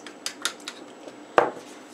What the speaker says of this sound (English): and we need to mix it.